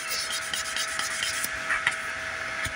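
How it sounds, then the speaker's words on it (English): Dry sandpaper rubbed back and forth over a plastic model car body, a steady close-up rasping scrape with a few brief louder strokes and no talk. "I normally do it wet, but just for demonstration purposes"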